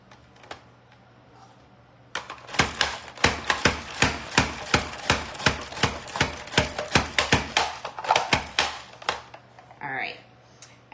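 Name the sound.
slicing vegetables on a slicer's number 3 setting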